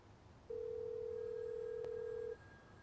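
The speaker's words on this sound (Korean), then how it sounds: "모스는 곧바로 카운터에 전화를 걸어보지만" A steady electronic tone holds for about two seconds over faint background hiss, then cuts off, like a phone line tone left unanswered, from a call to a hotel front desk.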